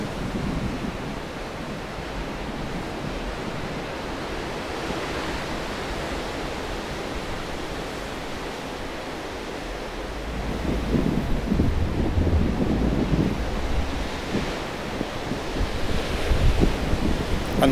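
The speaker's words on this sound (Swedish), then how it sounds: "Ja, nu kommer det helt fantastiska vågor här." Large sea waves crash on the shore, with a steady roar of surf and wind across the whole stretch, growing louder and heavier in the second half.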